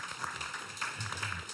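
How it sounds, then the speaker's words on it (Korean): An audience applauds actor Im Si-wan at a press event for the drama The King Loves: a brief, fairly faint burst of dense, even clapping with no voices. "홍삼 파워 임시완 배우께 박수 한번 부탁드리겠습니다"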